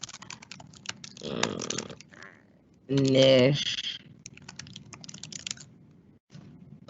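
Fast typing on a computer keyboard, bursts of quick clattering keystrokes with a short pause, while a person talks over part of it.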